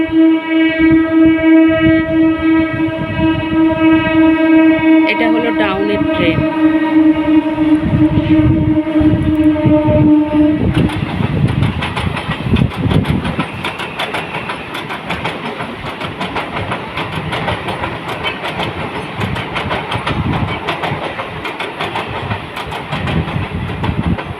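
A train approaches and passes a railway crossing: a long sustained horn blast first, then a loud rumbling rush with rhythmic clattering of wagons on the rails.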